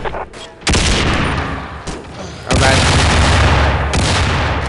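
Loud bursts of gunfire in the video game Global Operations, close rapid automatic fire that stops briefly and then resumes, with heavy booming impacts.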